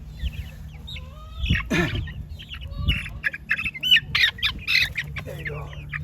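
A backyard chicken flock, with new chicks just introduced to the older birds, clucks and squawks in overlapping bursts at close range, while a voice briefly speaks.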